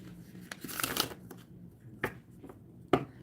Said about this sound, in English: I'm going to shuffle up here.